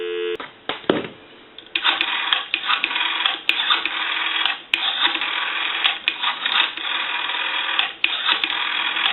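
Dial tone on a Western Electric green three-slot payphone, a steady buzzing tone held for most of several seconds after a few brief clicks and a short burst at the start, with small dropouts.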